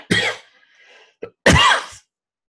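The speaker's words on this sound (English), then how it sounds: "I just get this coughing still." Two harsh coughs, close by, separated by a short pause with a faint throaty catch between them.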